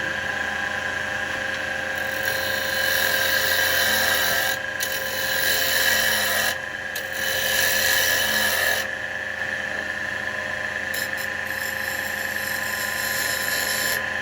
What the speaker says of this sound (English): for that I'm going to use a spindle gouge for that